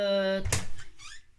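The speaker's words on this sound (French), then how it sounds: "la porte s'ouvre tout seul. Donc c'est mon chien qui rentre." An indoor door swings open on its own as a dog comes in: a short tonal creak, then a single soft knock as the door moves, followed by fading room noise.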